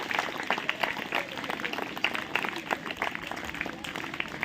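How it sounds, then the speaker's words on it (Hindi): Audience clapping for a little girl at a motivational talk, a dense patter of many hands in a hall that stays steady and moderately loud, with a voice faintly mixed in. "आप सभी लोग इस छोटी बच्चे के लिए जोरदार ताली बजाइए।"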